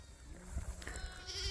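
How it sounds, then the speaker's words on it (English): Sheep grazing out on a triticale field bleat faintly in short wavering calls, a couple of distant bleats over outdoor background noise. "this is another look at the sheep we have out here on the Triticale"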